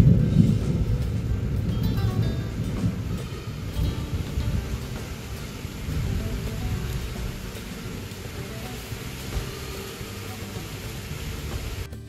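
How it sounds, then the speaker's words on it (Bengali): Heavy morning rain pours down steadily in a dense wash of noise, loudest at the start. Low rumbles that may be distant thunder sit beneath it, and nobody speaks. "মেঘ ডাকছিল, আর বৃষ্টি সেই বৃষ্টি হয়েছে, পুরো জল জমে যাওয়ার মতো বৃষ্টি হচ্ছে"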